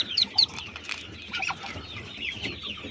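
A newly hatched duckling from an incubator peeps in short, high chirps, a few sharp calls at first, then softer scattered cheeps close by amid light handling noise.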